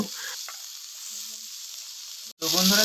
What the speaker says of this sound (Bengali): মশলাটার মধ্যে হালকা একটু জল দিয়েছি এবং এখন হলুদ দিয়ে লবণ দিয়ে এটাকে একটু ভালো করে কষিয়ে নিব